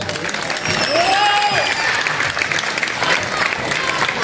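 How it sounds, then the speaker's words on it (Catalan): Steady audience applause fills the room for a contestant at a casting call for princess and knight roles, dense and continuous with faint voices and a brief whistle-like tone mixed in. "Doncs un fort aplaudiment per ell."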